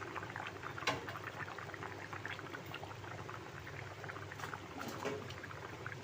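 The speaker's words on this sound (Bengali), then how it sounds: "আমি ডিমটা এবারে এক এক করে অ্যাড করে দেবো" Eggs going one by one into a simmering potato curry, a continuous bubbling, liquid simmer with a few soft splashes and clinks, no talking.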